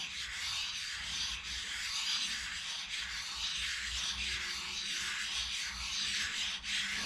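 Steel being lapped by hand with roughly 220-grit abrasive compound, a steady close gritty rubbing and scraping that runs continuously with a soft rhythmic back-and-forth swell and no speech.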